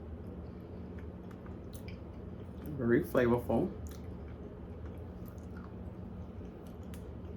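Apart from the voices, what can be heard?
chewing a bite of eggnog pound cake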